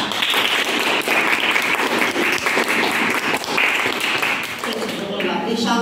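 A crowd applauds certificate recipients at a school drawing contest ceremony, with steady, dense clapping throughout and a voice starting up near the end.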